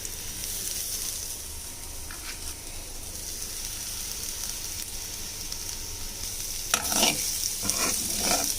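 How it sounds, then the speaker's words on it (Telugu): Tofu and carrots sizzle steadily in a hot pan, with a soft continuous fry and a few scraping stirs of a spatula near the end, no voices. "టోఫు వేసిన తర్వాత బాగా కలుపుకోవాలి"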